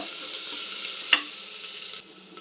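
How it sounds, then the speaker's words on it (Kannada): Ginger garlic paste fries in a pan of spiced oil for plain kuska, giving a soft steady sizzle with a single sharp utensil clink partway through, then the hiss drops off abruptly. "ಇದು ಸ್ವಲ್ಪ ಫ್ರೈ ಆಗಬೇಕು. ಈಗ ಶುಂಠಿ ಬೆಳ್ಳುಳ್ಳಿ ಪೇಸ್ಟು, ಇದು 1-2 ನಿಮಿಷ ಹಸಿ ವಾಸನೆ ಹೋಗಬೇಕು."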